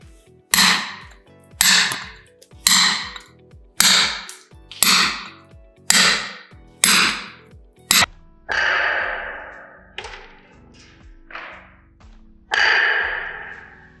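A hammer drives a point chisel into marble during hand stone carving, giving a run of about eight evenly spaced, sharp ringing strikes, then several more irregular and slightly duller blows, close and loud.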